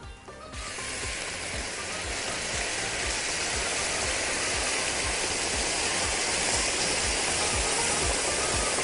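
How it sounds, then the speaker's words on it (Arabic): Boiling water poured into a hot pan of caramelized onions while cooking beef with caramelized onions, a loud, steady sizzling hiss rising quickly and continuing without a break, close by and with no talk. "دلوقتي اقدر احط شويه ميه مغليين"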